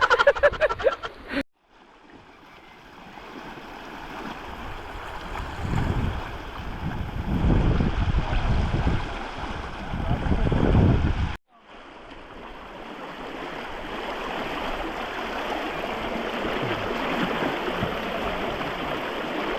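A strong river current rushes steadily, loud and close, with a roaring, wind-buffeted wash that briefly cuts out partway through before continuing.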